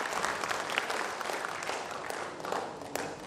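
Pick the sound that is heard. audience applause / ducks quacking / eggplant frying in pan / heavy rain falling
audience applause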